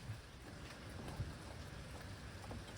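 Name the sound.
rain falling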